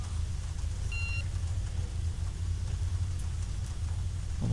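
Rain in the OMSI 2 bus simulator game makes a steady, dense hiss under a low rumble of the bus, constant throughout with a brief faint beep near the start and no talk.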